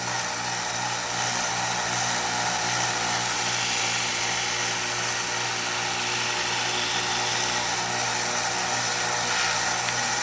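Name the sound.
Harbor Freight 1x30 belt sander sharpening a knife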